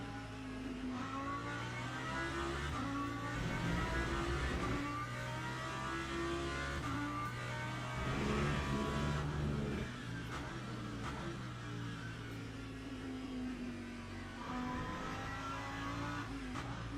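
Hypercars racing in the Le Mans Ultimate sim game at Paul Ricard, a steady loud engine drone with shifting pitch and revving swells throughout, no voices.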